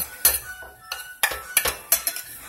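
Garlic and pepper being stirred in a pan with a utensil, giving sharp metallic clinks and scrapes in irregular bursts close by, several quick strikes separated by short quiet gaps, with no talking.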